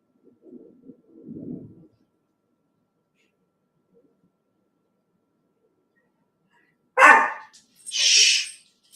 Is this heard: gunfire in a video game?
no